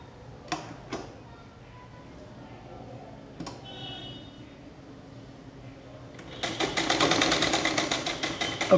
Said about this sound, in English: So we have to stitch on continuous placket.